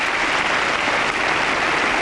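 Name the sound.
applause at a tennis match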